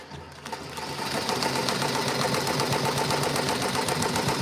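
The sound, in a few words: embroidery sewing machine running a placement stitch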